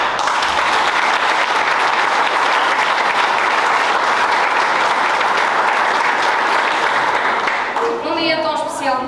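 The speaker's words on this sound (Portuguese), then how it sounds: "peço-vos uma grande salva de palmas para a nossa trompetista e surpreendente atriz" An audience gives a long, sustained round of applause for a trumpeter and actress after a musical stage show, a dense, even roar of clapping throughout that begins to fade near the end as a voice cuts in.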